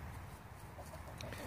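Backyard chickens clucking softly while scratching in a mulch pile, with low, scattered fowl calls heard at a distance beneath steady outdoor ambience.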